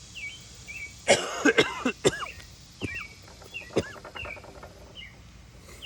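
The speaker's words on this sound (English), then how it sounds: "Allergies, man, but a dry cough." A few dry, allergy coughs burst out near the listener against a quiet outdoor background, with birds chirping faintly between them.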